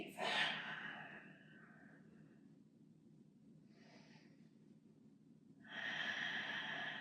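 Deep breaths during a vinyasa yoga sequence: a strong exhale at the start, a quieter breath in the middle and another full breath near the end, close and soft with no talk.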